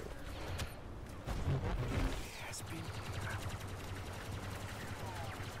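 Rapid automatic blaster fire rattles in Star Wars Battlefront II, heavier at first and then settling into a fast steady stream of shots across the rest of the stretch.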